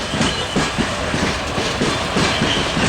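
Freight wagons hauled uphill on a steep grade by diesel locomotives roll steadily past with a continuous rumbling roar and faint rhythmic clacking of wheels over rail joints, fairly close and loud throughout.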